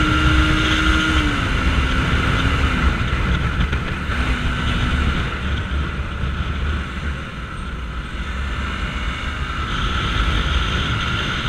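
TVS Apache 200 4V motorcycle ridden on the road, a steady engine and exhaust drone with shifting revs, heard up close under heavy wind rush throughout.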